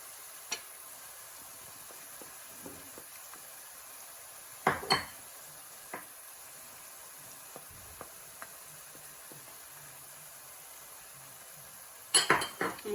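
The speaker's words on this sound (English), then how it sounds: "I'm going to give this a good stir" Onions and spices frying quietly in a pan for lamb keema samosa filling, with a soft sizzle under scattered clinks and scrapes of a utensil stirring against the pan, including a couple of louder clatters.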